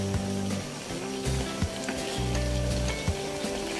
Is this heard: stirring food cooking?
yes